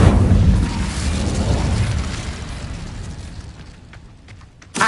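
An Incendio fire spell cast in Hogwarts Legacy on PS5 bursts out as a loud, roaring whoosh of flame that slowly fades and thins over several seconds, ending in a short, sharp crackle.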